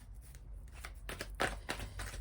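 Amethyst love oracle cards being shuffled by hand, a soft papery riffle in several quick close bursts over a quiet background.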